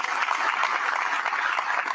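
Steady, dense applause from an audience greeting Heather Mulligan, President and CEO of the Business Council of New York State, at a Governor Hochul event in Schenectady. Many hands clap continuously at an even, full level throughout, with no break.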